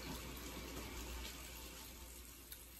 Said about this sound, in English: All I do is rinse them under the water and wipe them down and stuff